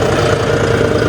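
A farm tractor's diesel engine runs steadily at close range, a continuous low rumble and clatter that holds level throughout, with no talk over it.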